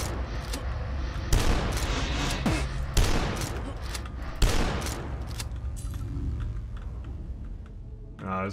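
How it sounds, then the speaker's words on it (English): Rivet gun firing in the video game Dusk, several sharp, loud metallic shots spaced a second or two apart, each ringing out and decaying before the next. "There's a rivet gun or something here."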